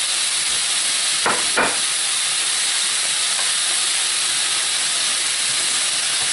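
Venison sizzling as it cooks for a cheesesteak hoagie, a loud, steady hiss that fills the whole stretch, broken by a couple of brief knocks early on.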